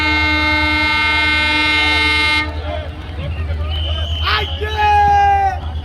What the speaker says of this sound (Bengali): এখান ইতিমধ্যে ট্রেন এসে ঢুকে পড়েছে মিজোরাম সাইরং থেকে সরাসরি দেখছেন